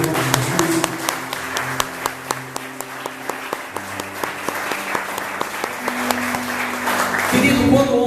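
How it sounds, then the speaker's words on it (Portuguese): A church congregation claps steadily and densely for several seconds while sustained keyboard or organ tones hold underneath, the applause swelling slightly louder toward the end. "Você pode aplaudir a palavra de Deus"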